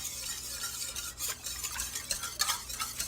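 Quiet stirring of vanilla bean paste into a cinnamon roll mixture in a bowl, with soft scraping and a few light clinks of a utensil against the side, steady and close with no talking.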